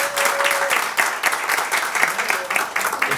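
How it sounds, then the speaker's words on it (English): An audience applauds at a resort event, the clapping loud, dense and steady throughout with scattered individual claps standing out. "Another round of applause for Rita, because"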